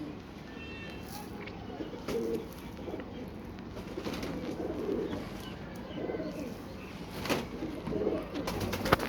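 Teddy pigeons from a breeder in Faisalabad coo repeatedly in soft, low murmurs, close by, while someone speaks intermittently over them.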